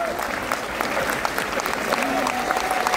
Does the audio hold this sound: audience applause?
yes